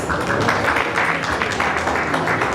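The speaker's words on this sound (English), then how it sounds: "Big round of applause." A big round of applause at a business leaders award ceremony, a dense, steady wash of many hands clapping that carries on evenly throughout without pause.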